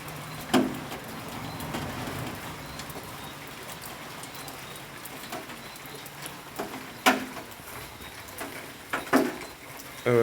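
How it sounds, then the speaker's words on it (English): Raindrops fall on a pipe on a rainy evening near a church and school in Barbados, giving a soft steady patter with occasional louder, sharper drips striking the metal. "what you are hearing now are raindrops dropping on this pipe."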